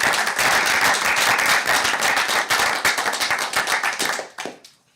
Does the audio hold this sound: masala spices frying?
no